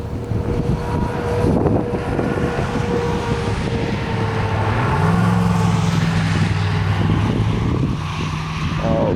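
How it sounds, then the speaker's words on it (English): Steady road traffic roars along a busy road near an outdoor trapping spot, a continuous broad wash of passing vehicles with wind buffeting the microphone and a low engine drone rising in pitch partway through. "obviously, you can hear all the road noise behind me here"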